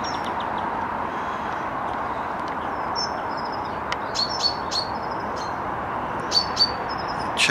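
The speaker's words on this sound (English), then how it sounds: "Chaffinch in the background." A chaffinch sings in the distance outdoors near a bridge, with short bright phrases and chirps that come and go over a constant loud rushing background noise.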